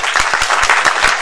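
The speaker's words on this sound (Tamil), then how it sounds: "அதுக்கு ஒரு கைத்தட்டுங்க" An audience at a Tamil film stage event bursts into brief, dense applause, with many hands clapping close together in a loud, steady patter.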